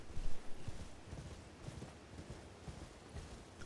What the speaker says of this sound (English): make sure you use your horse